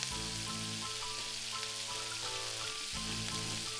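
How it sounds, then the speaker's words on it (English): Tikka-masala-coated scallops fry in a hot pan, giving off a soft, continuous hissing sizzle that stays faint and even throughout, with quiet background music underneath. "sizzling away."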